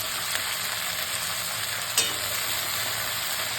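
Slit eggplant frying in a pan gives a steady, bright, hissing sizzle throughout, with one small pop partway through and no voices.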